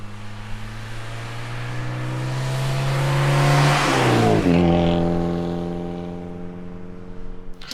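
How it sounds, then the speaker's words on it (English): A car drives past the camera at the roadside, its engine tone climbing as it approaches, peaking loud and close near the middle, then dropping in pitch and fading as it moves away. "where the car is driving right past the camera"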